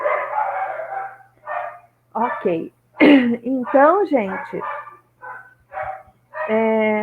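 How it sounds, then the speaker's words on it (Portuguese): Dogs bark near a meditation gathering in a quiet room, with short harmonic barks and yips scattered between the phrases of someone speaking close to the microphone. "cachorro latindo"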